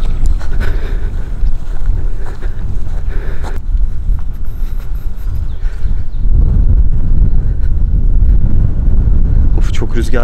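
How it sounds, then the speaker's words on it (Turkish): Strong wind in an abandoned old village buffeting the microphone in a steady, loud roar, with gusts rising toward the end; no one speaks. "Çok rüzgar var."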